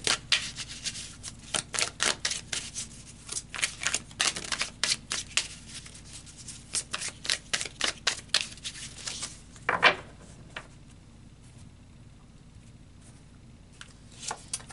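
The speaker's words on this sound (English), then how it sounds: "let's pull some more cards" Tarot cards are shuffled by hand in quick, repeated riffling bursts for about ten seconds, close and fairly soft, then settle into near silence with one last flurry at the end.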